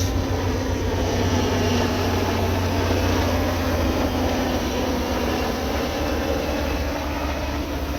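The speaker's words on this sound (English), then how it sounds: "Here comes a couple Air Force helicopters. Cruising the beach." Steady low rotor and engine roar of a couple of Air Force helicopters passing over a beach, continuous and loud throughout, with a broad wash of noise and no talking.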